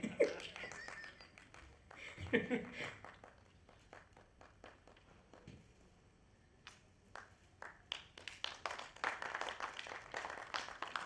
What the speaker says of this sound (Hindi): इतनी बहुत है तालियां, अब समझ लो कि पूरा हॉल बजा रहा है